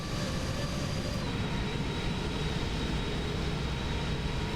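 A steady, loud roar of a PMDG 777-300ER jet during a landing replay in Microsoft Flight Simulator 2024 holds without a break, a broad engine and airflow rumble with a faint whine.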